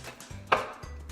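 A food processor pulses sugar and rough-cut jalapeño chunks in two short motor bursts, with a sharp chopping clatter of the blade between them.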